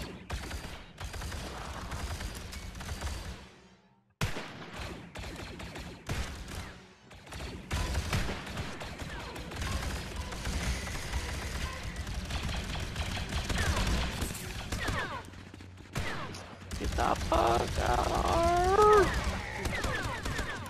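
Gunfire in the VR shooter Contractors VR on a Mygeeto map, with rapid shots and mechanical clacks filling the scene, a brief pause, then sustained firing growing louder toward the end, with a person talking intermittently.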